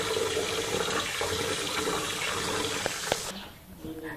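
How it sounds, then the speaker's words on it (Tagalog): Glutinous rice being washed under running tap water for biko, a steady broadband rush of flowing water and sloshing grains that drops abruptly near the end, leaving a quieter sink sound with faint clinks. "Huhugasan po muna natin yung ating glutinous rice or ang ating malagkit na bigas. Hugasan natin maigi."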